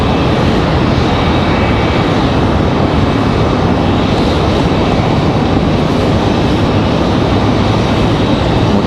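Boeing 737 jet arriving from Denver at Raleigh-Durham airport, a loud, steady broadband engine roar that holds evenly throughout with no voices.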